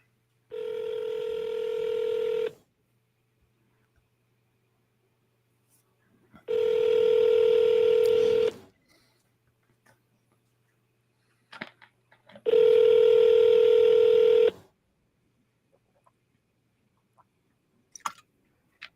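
Three long ringback tones sound on an outgoing phone call, each about two seconds of steady buzzing tone separated by long silences, with faint clicks near the end.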